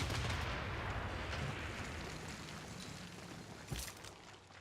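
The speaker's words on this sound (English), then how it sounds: "Meanwhile, battleship. Keep bombing Reims." A battleship bombards the city of Reims in Civilization VI, producing a dense, continuous rumble of heavy gunfire and explosions, with a sharper thump near the end.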